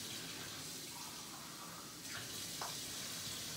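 Water pours steadily into a meatloaf pan in a home kitchen, a soft continuous splashing stream that stays even throughout with a couple of small trickles near the end.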